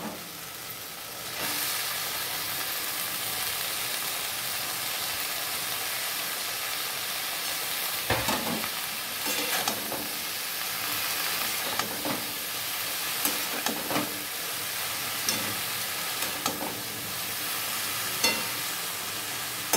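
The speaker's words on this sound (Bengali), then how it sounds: "এবার লাল শাকগুলো দিয়ে দেবো।" Red amaranth leaves stir-fried in a pan with chopped shrimp for a Bengali chorchori: a steady, close sizzle of hot oil runs throughout, with scattered scraping and stirring knocks, and no voices.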